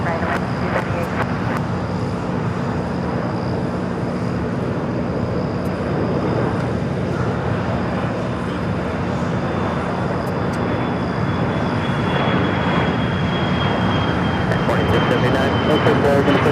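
A jet airliner taking off from runway 25 right at LAX, a broad continuous engine roar holding steady and loud throughout, with radio chatter and voices faintly beneath it.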